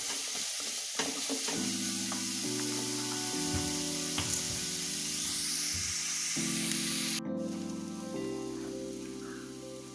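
Beef boti fry frying and being stirred in a pan: a soft continuous sizzle with occasional scraping stirs, sitting under steady background music.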